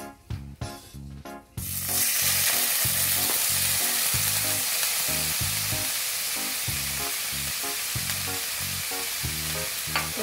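Ham frying in hot oil in a pan, a loud steady sizzle that starts abruptly after a few handling knocks and continues densely throughout with occasional stirring scrapes, no talking.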